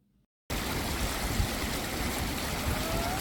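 The Reli river at Samthar in North Bengal, held back by locals into pools, rushes in a steady, loud, close wash of water that starts abruptly after a brief silent moment.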